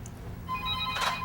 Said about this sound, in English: Answer that phone, dude.